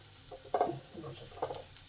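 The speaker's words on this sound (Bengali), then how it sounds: "এবার একসঙ্গে ভালো করে সবকিছু ভেজে নেব।" Chopped ginger and onion sizzle softly in a pan, with two quick stirring scrapes about a second apart.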